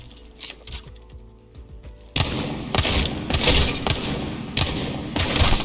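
Wingman pistol shots in the video game Apex Legends fire in an even, measured rhythm of loud, sharp cracks. They follow a quieter stretch of clicks and small noises.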